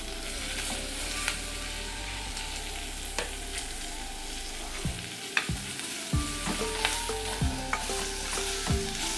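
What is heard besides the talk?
onion, chilli and curry leaves frying in a clay pot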